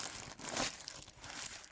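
Plastic packaging of a Hoya plant delivery crinkles and rustles in a short, soft burst of irregular crackles, close by and with no talking.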